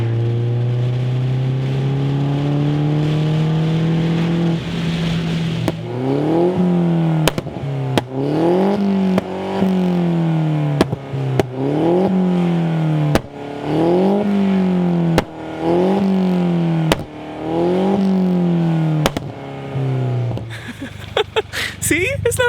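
A turbocharged car with a new toned aftermarket exhaust revs repeatedly, a steady idle climbing into about nine sharp rising-and-falling revs in a regular rhythm, loud and close, ending with a short burst of noise.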